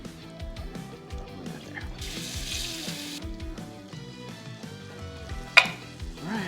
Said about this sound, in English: dredge this straight into the flour and throw it into our little fryer we got going